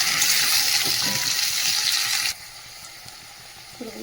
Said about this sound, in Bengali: পেঁপে আলুটা একটু হালকা করে ভাজবো পেঁয়াজের সাথে